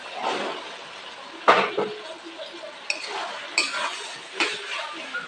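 Peas being stirred into a spice masala in a pan for Bengali ghugni, with several sharp metallic scrapes and clinks of a spoon against the pan over a soft, steady background.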